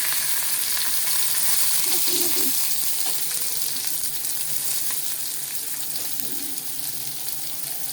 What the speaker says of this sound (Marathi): आता आपलं तेल तापलेलं आहे हा कढीपत्ता टाकूया कांदा टाकूया